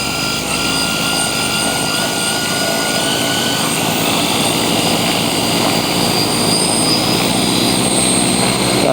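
Drone propellers on a flying 3D-printer drone spin steadily at half throttle, a loud, continuous whirring drone with a sustained tonal whine, close and unbroken throughout.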